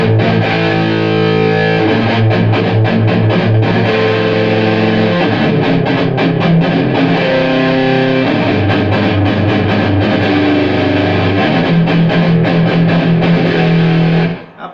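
Electric guitar driven through a metal distortion pedal into the clean channel of a 1998 Rivera Knucklehead 100 amp, heavy saturated chords and riffs played loud and continuously, alone with no talking.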